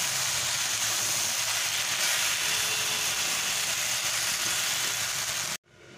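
Kolmi greens with fried shrimp sizzle in a pan as they are stirred together, a steady, loud hissing fry with faint scraping that runs evenly, then cuts off abruptly near the end, no voices.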